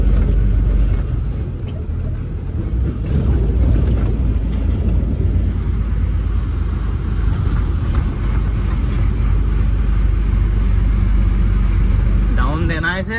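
Truck engine in a driving video game, rumbling steadily while the truck crosses a flyover, a loud continuous low drone with someone talking over it throughout.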